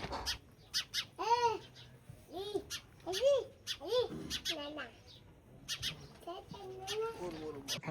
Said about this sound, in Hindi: आपने भी इस तरह से बचपन से ही इन गोरैया के चहचहाट की आवाज़ सुनी होगी